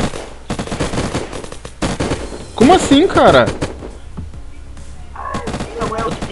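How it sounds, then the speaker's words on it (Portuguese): Rapid automatic gunfire in the survival video game Unturned during a clan PvP fight, bursts of shots with a loud cluster in the middle, while players talk excitedly over the firing. "tô ouvindo o tiro adoidado"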